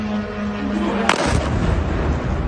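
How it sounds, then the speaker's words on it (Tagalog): A loud missile explosion in the Middle East, a single sharp blast followed by a rumbling tail under a steady broadcast hum. "personal nilang nasasaksihan ang pagliwanag ng kalangitan kasunod ng malalakas na pagsabog"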